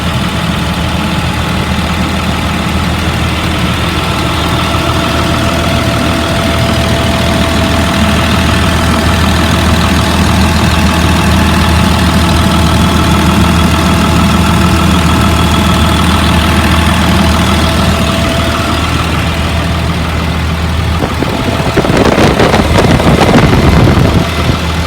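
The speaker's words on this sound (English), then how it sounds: "Motor sounds good." A 2004 Blue Bird All American 72-passenger school bus sits idling, its engine giving a steady, loud, continuous rumble that holds even throughout, with a brief rougher burst of noise near the end.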